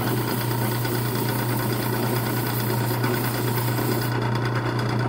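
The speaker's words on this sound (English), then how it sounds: "I'm going to clean that sanding drum off a little bit." A sanding drum spins with a steady, dense high whine and motor hum, constant and fairly loud for several seconds, without talk over it.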